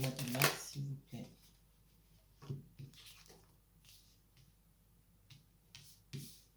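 Tarot cards shuffled by hand in short, soft riffling bursts scattered across the moment, close but quiet, with someone speaking French around them.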